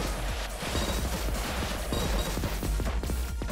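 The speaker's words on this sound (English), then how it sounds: "Oh, dropping the bomb!" Bomb going off in the PS4 arcade shooter Resogun, a dense rapid crackle of blasts and debris that stays loud and continuous, with no talk.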